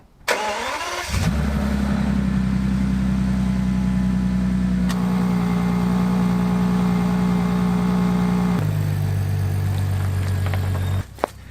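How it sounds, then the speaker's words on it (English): Modified Audi Q5 cold start: the starter cranks briefly, then the engine catches with a loud rev and settles into a high, steady fast idle that drops to a lower idle before the car moves off a driveway. "I'm just going to cold start it and take it off the driveway"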